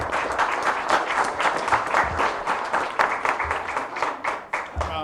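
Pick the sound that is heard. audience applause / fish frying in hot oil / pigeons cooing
audience applause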